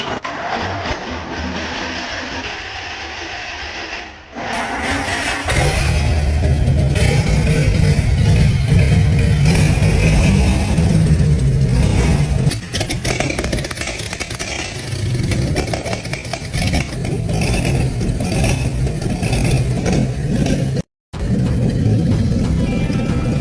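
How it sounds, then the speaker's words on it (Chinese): Restored Dongfeng EQ6100-1 gasoline engine from a 1992 truck cranking, catching and running, then a loud, steady close roar with clattery revving that drops out briefly near the end. "我很幸運地把這台 EQ6100-1的東風汽油發動機再次的成功啟動"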